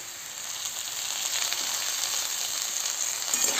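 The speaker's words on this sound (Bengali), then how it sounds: "এবারে ভালো করে নেড়ে নেব।" Papaya and potato pieces sizzle and crackle steadily in hot oil with turmeric and salt, a dense continuous frying hiss with a soft scrape of stirring near the end, close and fairly loud, no voices.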